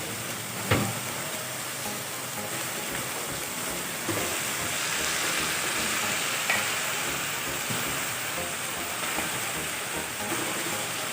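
Chicken fries and is stirred in a pan with a continuous, close sizzle, broken by a few clanks and scrapes of the spoon, with no talk.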